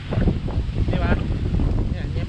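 Gusty wind buffets the microphone in a loud, continuous rumble with fluctuating roar and no speech.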